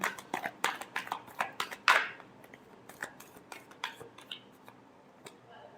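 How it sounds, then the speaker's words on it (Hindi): Tarot cards are shuffled close up in a quick run of crisp riffling flicks and snaps. One louder burst comes near the middle, and the card sounds then thin out to a few soft taps. "Last shuffle."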